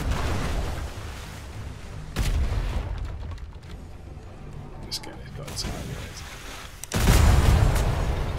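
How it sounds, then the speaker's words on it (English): Masterwork cannons fire from a battle brigantine in the game Atlas, a few heavy booms standing out around the middle and near the end of a steady battle din. "Masterwork cannons making short work of this dude as well."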